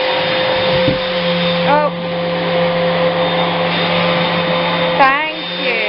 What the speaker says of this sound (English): We're gonna hoover. Are we gonna hoover?